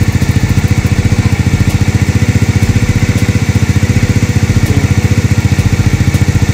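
A Honda XRM/Wave type motorcycle engine idling while it warms up, with a carburetor being cleaned and tuned, giving a steady, loud, close, rapid putt-putt pulse that never changes pace.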